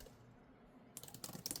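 Someone types on a pogo-pin, battery-free, Magic Keyboard-compatible keyboard case for a 13-inch iPad Pro M4. A quiet room gives way to a close burst of rapid, light key clicks.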